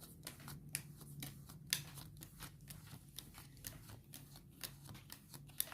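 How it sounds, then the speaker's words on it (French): Playing cards dealt one by one onto a table in a two-player game of Joraku, a quiet, rapid series of soft flicks and slaps. "Je distribue 8 cartes."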